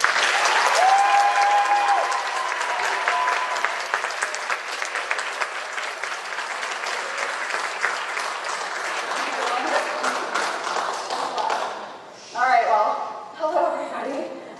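An audience at a university last lecture claps warmly to welcome a psychology lecturer, a dense, steady round of applause filling the hall for about twelve seconds before fading as a voice begins speaking.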